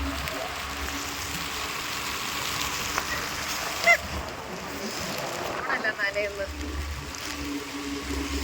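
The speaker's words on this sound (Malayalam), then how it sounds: "കേട്ടോ ബോട്ടല്ലേ പറന്ന് പോകുന്നത്" A boat speeds past on open water, its engine a steady broadband drone with a few honk-like tones rising over the wash; faint voices murmur underneath.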